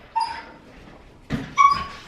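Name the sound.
dog playing and whimpering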